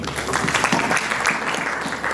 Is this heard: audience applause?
yes